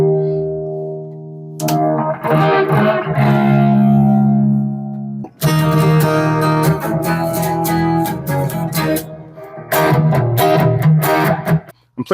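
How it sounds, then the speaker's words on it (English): Short-scale jazz bass strung with flatwound strings, run through a pocket multi-effects processor, playing heavily processed, distorted and chorused notes in loud bursts that stop briefly and resume, with no talking. "I'm playing through like a short scale jazz bass with flat wounds on it"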